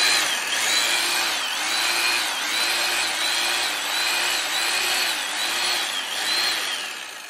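Kainuo 8423 17 mm concrete demolition hammer running unloaded, a close, loud, steady motor whine with a regular pulsing hammer rhythm repeating about once per second throughout.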